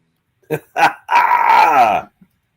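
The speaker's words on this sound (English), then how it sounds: "I need to hear the dog." A dog gives two short barks, then a long drawn-out whine or howl that bends downward, close and fairly loud, ending in silence.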